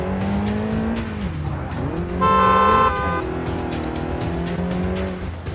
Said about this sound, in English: He operated his Honda Civic at high speeds, dangerously overtaking other cars and running stop signs.